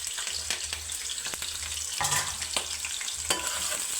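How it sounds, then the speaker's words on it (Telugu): Onion slices and green chilies frying in hot oil, giving a crackling sizzle broken by several sharp scraping stirs of a spatula against the pan. "ఈ ఉల్లిపాయ ముక్కలు పచ్చిమిరపకాయలు వేస్తా ఆయిల్లో"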